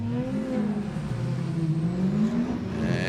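A BMW drift car at a Formula Drift event in Atlanta, its engine revving steadily with a whining, wavering pitch that climbs and falls, loud and close throughout with no speech.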